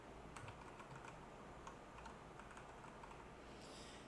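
Typing on a computer keyboard while setting up a fault system in GX Works 3 PLC software: a steady run of light, quick key clicks at a moderate, even pace, close by in a quiet room with a faint hum underneath.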